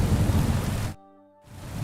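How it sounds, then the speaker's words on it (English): Rain in the video game Kingdom Come: Deliverance 2, heard as a loud, steady hiss of rainfall that cuts out briefly to a tonal hum before resuming. "Nothing like playing dice in the rain,"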